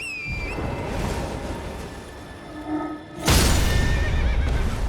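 Horse whinnying in Elden Ring, a loud close neigh with falling pitch near the start, then heavy game noise and a burst of crashing action over the second half, with no talk.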